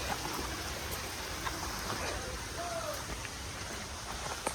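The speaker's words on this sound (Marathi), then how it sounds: "छोटा धबधबा आहे बघा" Small waterfall at Karnala bird sanctuary during the monsoon, a steady broadband rush of falling water heard continuously at moderate distance, with faint voices in the background.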